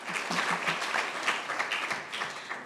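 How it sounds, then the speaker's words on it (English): Conference audience at an African foundation side event clapping together in sustained, moderately loud applause that rises and falls slightly throughout. "Can we clap again for Mr. Yohei Sasakawa?"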